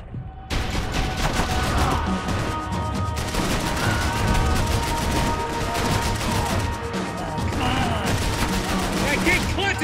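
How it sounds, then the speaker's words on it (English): Sustained gunfire from Max Payne 3 rattles almost without a break, loud and near, with bullets whizzing past amid booms and crashing game effects. "Bullets whizzing past my head!"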